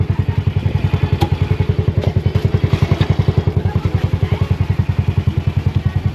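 A motorcycle engine idling close by, its exhaust giving a steady, rapid, even thumping pulse that stays loud and constant for the whole stretch.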